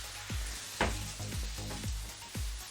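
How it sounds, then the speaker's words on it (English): Chicken for a creamy chicken dish sizzles steadily in a pan while it is tossed, with soft periodic clunks of the pan roughly every half second under the constant frying hiss. "Cooking this chicken, tossing it around."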